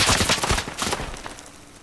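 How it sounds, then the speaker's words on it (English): Machine gun fire in the WW1 video game Isonzo, a loud rapid burst of shots that trails off and fades over the second half, with no talking. "yeah, it was a machine gun"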